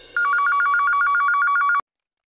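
Telephone bell ringing in a quick, steady warble lasting just over a second and a half, loud and close, then cutting off abruptly into silence.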